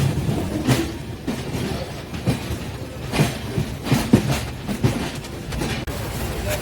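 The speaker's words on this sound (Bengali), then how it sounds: "বারাণসী জংশন ট্রেন ঢুকছে।" A passenger train pulling into Varanasi Junction rattles with rhythmic, close clattering thumps of wheels over rail joints, the carriage rumbling steadily between the beats.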